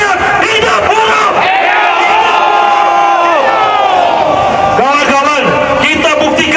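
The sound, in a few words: protest crowd of workers shouting hidup buruh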